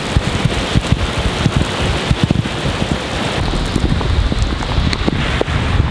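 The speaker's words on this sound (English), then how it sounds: "Very few times have I seen it rain this hard." Heavy rain pours down hard in Hong Kong, a dense, steady roar of drops close by with occasional sharper spatters, continuous and loud throughout with no voices.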